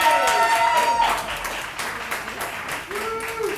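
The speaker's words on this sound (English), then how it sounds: "please give yourselves a round of applause" Audience at a storytelling show applauding steadily, a broad wash of clapping that holds level throughout, with voices faintly heard mixed into it.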